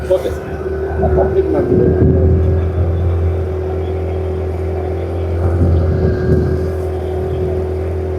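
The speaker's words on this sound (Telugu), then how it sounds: "పడవ ప్రయాణం" A motorboat engine drones loudly and steadily on a lake boat ride, its pitch rising slightly in places, with people talking over it.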